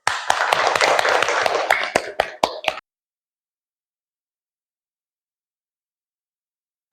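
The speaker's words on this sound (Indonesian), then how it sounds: "Coba tepuk tangan dulu." A burst of hand clapping from a school class, dense and lively for a few seconds, ending with several scattered single claps before silence.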